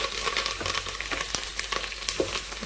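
A tempering of ginger-garlic paste, curry leaves and green chillies sizzling in hot oil, a dense, steady crackle with sharp pops and spits now and then, heard up close without any talk.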